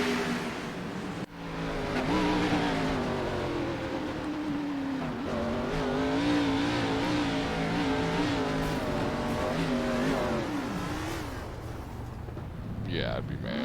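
Xfinity Series race cars driving down pit road, engines droning and revving in shifting tones with intermittent tire noise, sustained and fairly close, with voices talking over the engines.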